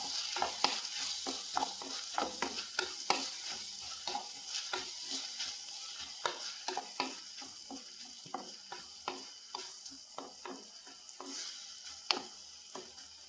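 Pineapple thoran being stirred in a pan, a spoon scraping and tapping in quick irregular strokes over a soft, steady sizzle of frying, close and moderately loud throughout, with no talking.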